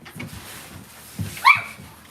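A dog gives a single sharp, high yelp near the end, close by, while a voice and shuffling noises sound low in the room around it.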